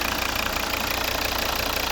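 A 2012 Volvo V60 R-Design with the 2.0 D3 five-cylinder diesel and automatic gearbox idles nearby. It makes a steady, even hum with a faint diesel clatter and no voices over it.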